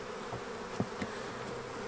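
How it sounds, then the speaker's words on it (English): Honey bees buzz around an open hive worked without smoke, a faint steady hum with a few soft nearby passes and no voices. "The bees are very active."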